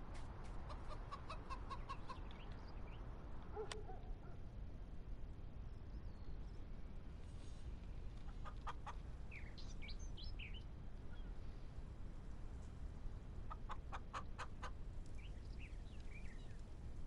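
Chickens in the farming video game Big Fields Farm cluck and chirp in short, scattered bursts over a steady background hiss, fairly faint and without talk.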